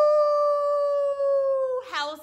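A storyteller imitates a coyote howl with one long, steady, sustained voiced note that ends in a wavering break.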